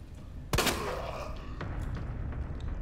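A gunshot rings out in the Resident Evil 2 Remake video game, one sharp loud blast followed by a lingering reverberant tail under faint background sound.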